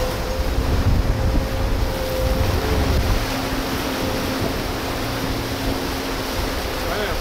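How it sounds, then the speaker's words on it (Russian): Sea waves at a beach on a Chinese island near Sanya, a broad continuous wash of surf mixed with heavy wind buffeting the microphone, loud and close, with no clear break. "Сейчас я море сниму."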